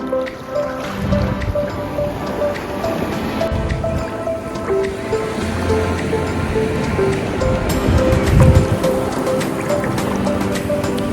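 Warm surf at Luquillo Beach, Puerto Rico, a continuous loud wash of waves and churning water all around, steady throughout with a swelling rush near the end.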